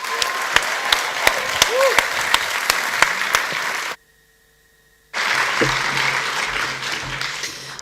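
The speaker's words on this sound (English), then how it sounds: "Let's give her a big round of applause." Audience applause at a sports ethics and leadership summit keynote, with steady clapping that cuts off abruptly into silence and then resumes as a fuller crowd ovation.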